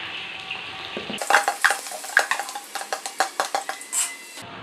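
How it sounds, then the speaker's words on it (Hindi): Onions drop into hot ghee in a pot for Sindhi biryani and start frying. A burst of sizzling opens after a quieter lead-in, with metal spoon and pot clatter knocking in an uneven rhythm close by. No one talks. "ये अब हम फ्राई करने के लिए इसमें प्याज डालेंगे जी इसके अंदर"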